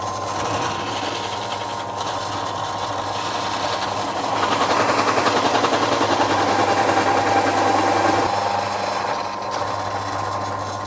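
A power drill bores a hole through a metal part during a motorcycle bobber build, a loud steady whirring grind that holds continuously with slight changes in pitch.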